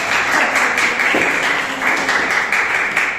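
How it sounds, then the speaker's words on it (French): A classroom of students applauds a classmate, Gonzalo, with steady, dense clapping that runs unbroken and fairly loud from start to finish. "Alors, applaudissements pour Gonzalo."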